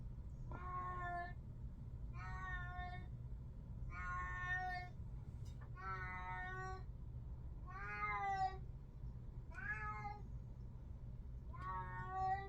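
A house cat meows repeatedly indoors, about seven evenly spaced, drawn-out cries, rather faint over a low background hum.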